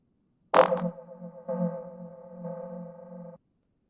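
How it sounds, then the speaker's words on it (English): A synthetic oxygen-low warning tone from the video game Loddlenaut starts with a sharp blip, then a low, steady electronic drone pulses faintly for a few seconds before cutting off. "for that sound in particular, it was a oxygen low kind of warning"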